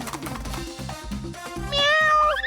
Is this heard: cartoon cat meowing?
yes